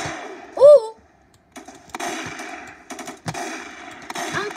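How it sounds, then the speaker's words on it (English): Gunfire in the Roblox-style shooter Strucid, including Desert Eagle shots: a string of sharp close bangs and bursts with a whooshing effect early on, the reports separated by short gaps. "That deagle shot, it was right here."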